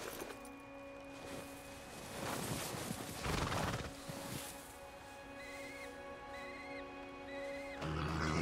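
A horse in a free-roaming video game neighs and whinnies with clopping hooves, the calls loud and close with a high trailing whinny near the end.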